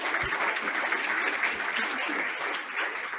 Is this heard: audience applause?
yes